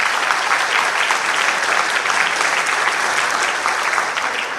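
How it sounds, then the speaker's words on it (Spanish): Loud, dense applause from an audience at a seismic risk forum on buildings, a continuous wash of many clapping hands that stays strong and even from start to finish. "les pido que demos un fuerte aplauso a nuestros panelistas por su presentación"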